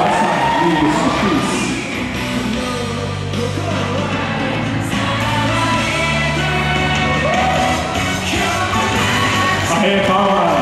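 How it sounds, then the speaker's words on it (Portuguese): A crowd at a 2011 anime convention cosplay parade cheers, shouts and whoops loudly and continuously, young voices mixed in, with a busy noisy hall filling the background. "E vocês batem palmas. Bate palmas."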